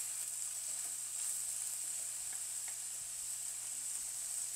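Italian sausage sizzling as it browns in a frying pan, a steady hiss with faint crackles throughout, moderately quiet and with no talking.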